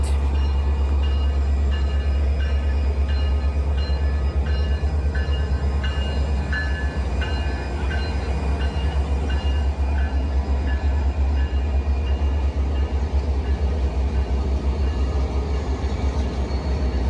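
A train departing Kitchener bound for Stratford rolls past close by, a loud continuous rumble of wheels and cars with steady clatter throughout, no voices.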